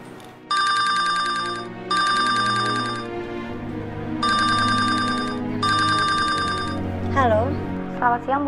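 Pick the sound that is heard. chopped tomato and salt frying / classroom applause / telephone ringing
telephone ringing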